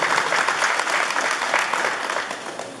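A crowd applauds at a roofing handover ceremony for a high school in Naupan, with loud, dense, sustained clapping that fades slightly toward the end.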